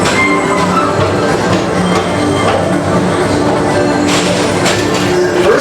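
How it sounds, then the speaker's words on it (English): A Magic Kingdom PeopleMover ride vehicle rolls steadily along its track in Tomorrowland, a continuous loud rumble with occasional thumps and clicks. "your express train keeps on rolling through the future"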